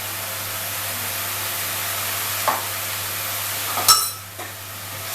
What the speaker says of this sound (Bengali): এটাকে আমি পেঁয়াজের সাথেই কষে নেব, যাতে এই কাঁচা যে গন্ধটা থাকে সেটা চলে যাওয়া পর্যন্ত